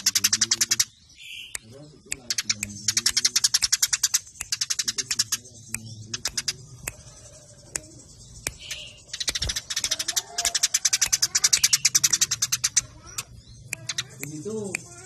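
Caged songbirds chirp and trill rapidly in dense, repeated bursts close by, meant as song training, while a person talks briefly underneath.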